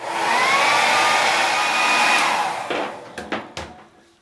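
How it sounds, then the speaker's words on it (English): A hair dryer blows with a loud, steady whine, then cuts off and leaves a few sharp knocks and clicks. "I'll hold the hair dryer there for, I don't know, 30 seconds"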